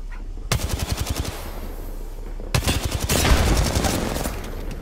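Video game gunfire, two loud bursts of rapid automatic shots with a sharp stuttering rhythm, separated by a short lull, the second burst trailing into denser noise.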